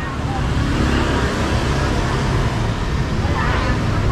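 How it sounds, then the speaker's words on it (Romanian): Dense road traffic on a busy Bangkok street with many motorcycles, a steady continuous rumble of engines close by, with speech faintly present in the mix. "Multe motociclete, după câte puteți vedea."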